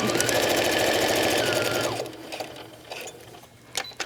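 A sewing machine stitching clear vinyl runs in a steady, rapid rattle for about two seconds, then stops, leaving light handling noises and small clicks.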